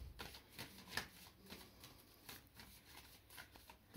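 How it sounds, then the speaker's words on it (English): Cards being shuffled in quick, crisp riffling bursts, fairly soft and close, with no talking. "as I shuffle them."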